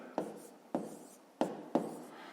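Numbers are written by hand during a fifth-grade math exercise, with four short scratchy pen strokes spaced roughly half a second apart. Close and quiet, with no talking.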